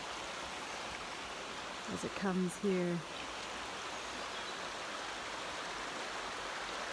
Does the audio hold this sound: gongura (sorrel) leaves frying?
no